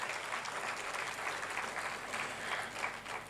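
An audience claps steadily at a public lecture on de-addiction held by a student association, with dense, sustained applause filling the hall at moderate loudness, heard from a distance and without speech over it.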